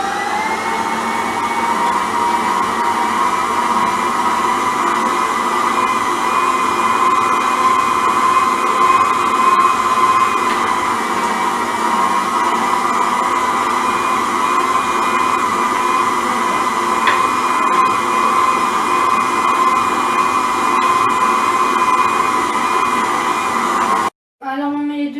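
A stand mixer runs at top speed beating softened butter as pastry cream is gradually added, a loud steady motor whine held for over twenty seconds before cutting off.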